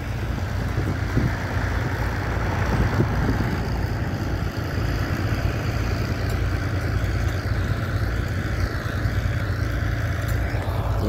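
A 135 tractor working at a ploughing match, with a steady, loud diesel drone and low rumble running throughout, close by and continuous without a break.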